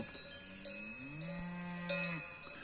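Cowbells clank irregularly on cows grazing in an alpine pasture near Mont Blanc, close and clear, with a long low moo rising in the middle. No one speaks.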